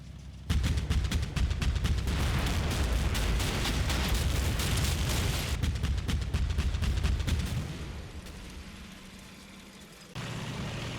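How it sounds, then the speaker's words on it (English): Flak cannon firing in the World War II game Combat Mission Final Blitzkrieg, a fast run of sharp, heavy reports over a low rumble that thins out and fades, then a low mechanical drone returns. "The battlefield remains quiet for the next few minutes, with the only noise coming from the flak cannon continuing its hit and run tactics"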